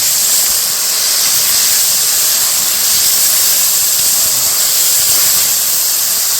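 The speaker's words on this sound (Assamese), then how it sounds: "এতিয়া ধুনীয়াকৈ পিঁয়াজখিনি ফ্ৰাই কৰোঁ" Onion paste sizzles steadily in hot oil in a pan for Assamese-style chicken do pyaza, a loud, continuous, close hiss with no talking over it.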